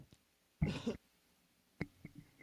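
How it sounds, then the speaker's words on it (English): A single close, rough cough bursts out, followed a moment later by a couple of softer throat sounds in an otherwise quiet room. "I didn't mean to cough in the mic."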